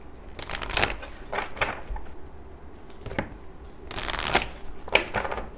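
Moonology oracle cards being shuffled by hand, several quick riffling bursts close to the microphone with short gaps between them, the last two louder and crisper.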